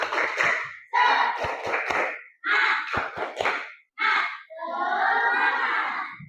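A group performs a tepuk semangat chant in a classroom setting, with bursts of rhythmic clapping and voices alternating with short pauses, loud and close, ending in a sustained shouted chant.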